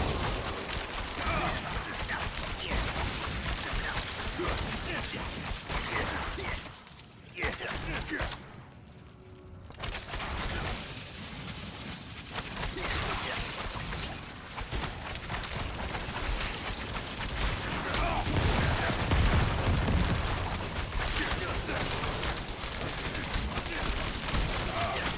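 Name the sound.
explosions from the video game Diablo 4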